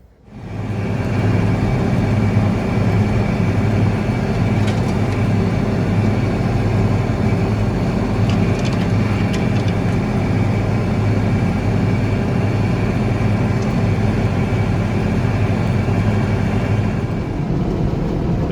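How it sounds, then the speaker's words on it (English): Peach spray tractor engine running steadily in an orchard while applying copper spray, a loud continuous rumbling drone that holds for the whole stretch, alone without talk. "this afternoon I'm in my peach spray tractor"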